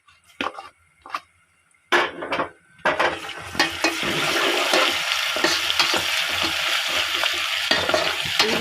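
Garlic and green chili paste hits hot oil with browned onions for rajma curry, opening with a few sharp spoon clinks and scrapes against the pot, then settling into a loud, continuous close sizzle with occasional stirring knocks.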